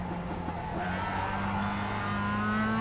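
A Mazda MX-5 Cup race car in the iRacing simulator at Oulton Park, its engine droning steadily and rising in pitch as it accelerates, loud and continuous with faint tire noise and no talking.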